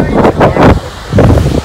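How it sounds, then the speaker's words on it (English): Strong gusty wind at a beach before a storm, buffeting and rumbling in loud bursts across the microphone, close and rough. "it's getting really windy"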